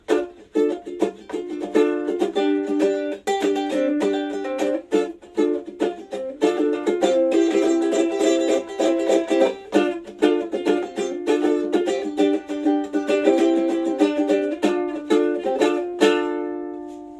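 A concert ukulele played solo in a quick, rhythmic frailing pattern, bright strums and plucked notes running steadily before ending on a ringing chord.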